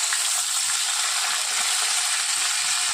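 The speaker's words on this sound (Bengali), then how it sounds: "তো একে একে সব সবজি আমি এবার তেলের উপর দিয়ে দিচ্ছি।" Mixed vegetables hit hot oil tempered with five spices, producing a steady, loud, close sizzle with a constant hiss and faint scraping stirs underneath, no voices over it.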